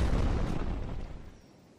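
A single deep, booming explosion from a rocket shot in the video game Crysis that rolls off and fades over about a second, close and loud.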